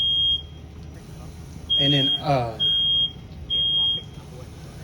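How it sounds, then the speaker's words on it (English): A smoke detector shrieks in repeated loud beeps during a fire sprinkler demonstration, several long tones separated by short gaps, with someone talking briefly between them. "which was the smoke detector"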